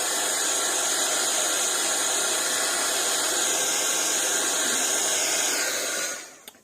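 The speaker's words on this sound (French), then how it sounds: "Je vais sécher mon encre." A heat tool blows steadily, drying embossing ink on fabric: a loud, close, continuous whooshing hiss that holds for about six seconds, then cuts off and spins down.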